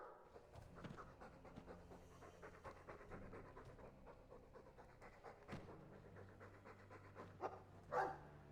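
A dog in the video game Dragon Age 2 pants steadily in quick, soft rhythmic breaths, fairly faint and close, with a small louder burst near the end and no speech.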